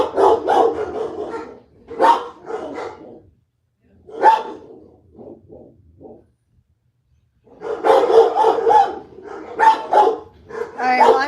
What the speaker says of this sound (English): The dogs get barking when they're going out